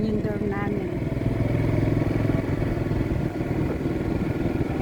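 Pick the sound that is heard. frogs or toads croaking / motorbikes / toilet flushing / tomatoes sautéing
motorbikes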